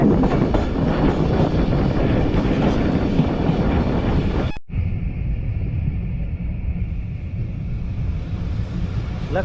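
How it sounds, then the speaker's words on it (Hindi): The Khyber Mail passenger train in Pakistan rumbles along the rails with a broad steady roar of wheels and wind, a brief dropout midway, then a slightly softer, continuing run as it slows. "ट्रेन फिर स्लो हो गई है।"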